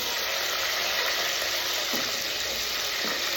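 Shallots tipped into hot oil already crackling with mustard seeds and urad dal, a steady loud sizzle that holds for the whole few seconds with a couple of soft stirring knocks.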